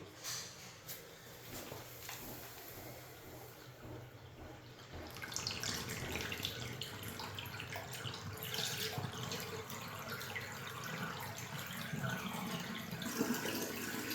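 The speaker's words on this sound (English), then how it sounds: "Draining like a champ, buddy." Steady rushing and trickling of water draining away after a flood test, growing louder and fuller partway through and continuing evenly close by.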